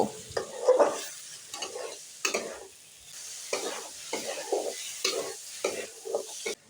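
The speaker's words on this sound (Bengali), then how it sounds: "মশলার সাথে আমি লাউগুলো আবারও 2 মিনিট ফ্রাই করে নেব।" Fried bottle gourd pieces stir-fried with spices in a pan, bursts of sizzling as the spatula scrapes and turns the food, separated by brief quieter gaps.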